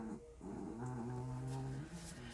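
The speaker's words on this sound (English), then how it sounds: "so she's snoring up a storm over here" A little dog, tired after a long run, snores and grumbles nearby in a low, steady rumbling drone with faint whimpering tones, continuous through the moment.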